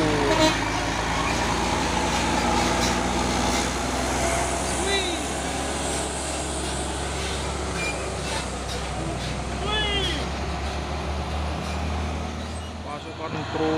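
A 6x4 CPO tanker truck rumbles by on the road, a heavy engine drone with a horn toot, while people talk over the traffic.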